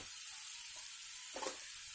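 Potatoes sizzle steadily in a pan over low heat while an egg is being made for a simple breakfast, a continuous hiss with a brief stir or shuffle partway through and no talking.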